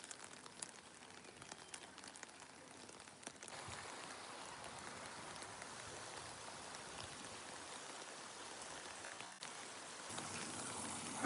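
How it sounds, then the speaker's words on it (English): Steady outdoor rain falls in Bressanone on a cold day, a soft continuous hiss of drops and trickling water that grows slightly denser partway through, with no one talking. "It's cold, it's raining."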